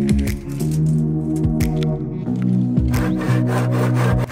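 Manual drilling into a wall to mount an RO/DI filter, loud repeated grinding and rasping strokes with short pauses between bursts, close up.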